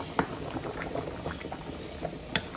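Spaghetti boiling in a pot of water gives a steady, soft bubbling with scattered small pops and splashes. It is fairly quiet and close, with no voices.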